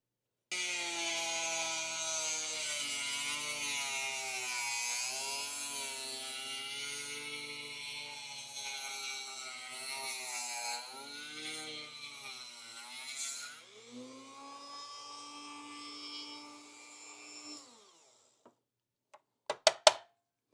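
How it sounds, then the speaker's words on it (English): A sanding drum shapes a rifle grip with a continuous high whirring grind, its pitch wobbling as pressure changes, then winding down near the end before a few sharp knocks. "that's about a pass or two with the sanding drum"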